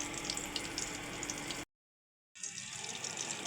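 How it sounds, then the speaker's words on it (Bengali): Food fries in a pan over a low flame, giving a steady, fairly faint hissing sizzle. It cuts out into near silence for a moment, then resumes. "আমি এটা একদম লো ফ্লেমে কিছুক্ষণ ভাজবো।"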